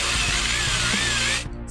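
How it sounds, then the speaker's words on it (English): A power drill bores holes into a board, a loud steady whirring whine held for over a second before cutting off abruptly, with no voices. "We're gonna drill the holes to the board."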